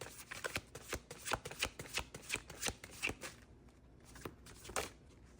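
Tarot cards shuffled and drawn by hand, a quick run of crisp riffling flicks followed by a short pause and a few more card snaps, close and clear with no talking.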